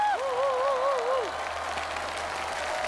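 A studio audience at a variety show claps for the performers, a soft, even patter of applause under a brief sung or musical tone at the start, then steady clapping to the end.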